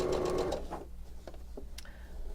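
A sewing machine stitching quilt binding runs in a fast, close whir for about half a second and then stops, leaving a few faint clicks and small handling noises.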